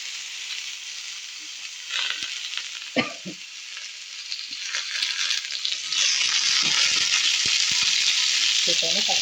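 Tomatoes with a little tamarind are sautéed in oil for a spicy chutney. A moderate hissing sizzle grows denser and steadier over time, with a thud early on and scattered stirring clicks.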